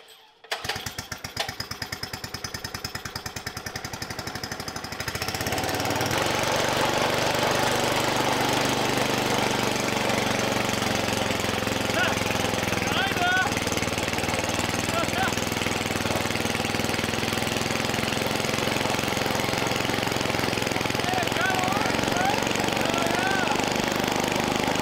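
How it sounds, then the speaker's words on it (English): Small engine on a homemade remote-controlled snowblower starts up and runs steadily, loud and close with a rough, rattling drone that continues throughout. "I'm gonna go right ahead and install the engine, and we can give this thing its first test"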